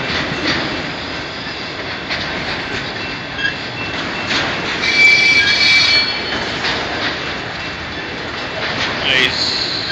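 A car hauler freight train rolls past, giving a steady, loud rumble of wheels on rails with some metallic squeal and clatter that holds throughout.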